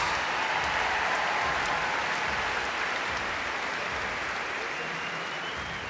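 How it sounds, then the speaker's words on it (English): A crowd applauds at a tennis exhibition in Australia. Sustained, even clapping from many spectators holds steady throughout, with a faint murmur beneath it. "Nice round of applause there for Cruz Hewitt."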